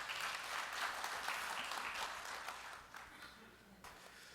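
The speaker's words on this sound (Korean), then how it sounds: "큰 박수로 환영해 주시기 바랍니다" An audience at a rural-district advocacy group's launch ceremony and forum applauds to welcome a speaker, a broad, even wash of clapping that gradually fades toward the end.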